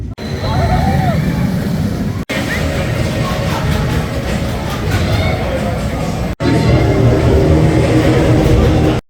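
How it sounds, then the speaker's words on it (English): Icon roller coaster at Blackpool Pleasure Beach rattling through its ride, a loud continuous rumble and clatter of the train on track with wind roar, broken by two brief cuts, with crowd noise and voices underneath. "Been on it a few times and there's a bit of a rattle on it now."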